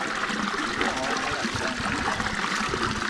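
Cold water trickles steadily from a stream-fed fountain near Sana, Macaé, a continuous close splashing hiss with no break across the whole stretch.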